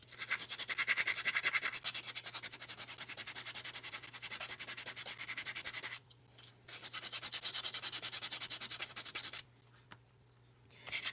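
Finer-grit sandpaper rubs over CosClay in quick, rhythmic back-and-forth strokes, close and dry. The scratching stops twice for brief pauses, then starts again.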